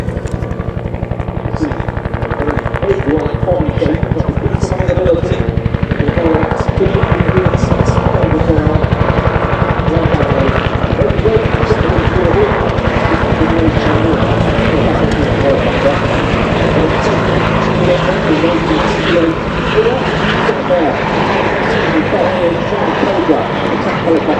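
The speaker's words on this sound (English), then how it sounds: "The smaller of the two helicopters up above the Hughes LH-6A Cayuse, known as the Loach." A Hughes LH-6A Cayuse light observation helicopter, the Loach, flies overhead at an American air show at Duxford, its steady rotor chop and engine drone loud and continuous throughout.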